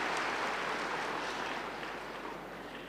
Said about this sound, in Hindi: ताली बजाओ तो उठ जाएंगे सब नींद से।